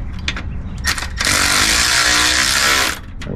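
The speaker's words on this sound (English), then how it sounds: "slam a ratchet on it like I just said not to" A power ratchet whirs steadily on a bolt for a couple of seconds during a sway bar upgrade on an 80 Series, preceded by short metallic taps and clicks, close and loud.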